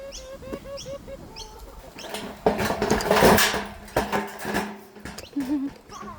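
Chickens cluck and peep in short calls while being fed food scraps, with rustling and pecking swelling in the middle and a few squawks toward the end.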